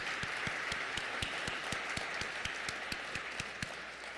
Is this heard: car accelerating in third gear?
no